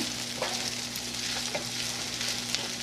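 Fried rice sizzles in a pan while being stirred, giving a continuous frying hiss with a few soft scraping strokes of the utensil, fairly quiet and close, with no talking.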